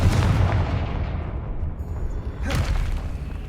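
A Confringo fire spell explodes in the Hogwarts Legacy video game, a loud booming blast with a rumbling tail that fades, then a second sharp burst about two and a half seconds in.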